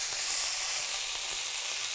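Chicken sizzling in a hot pan, a steady close hiss of frying crackle with faint stirring underneath, no voices.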